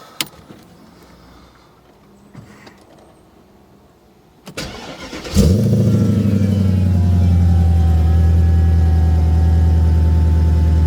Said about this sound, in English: cold start and let's get on the road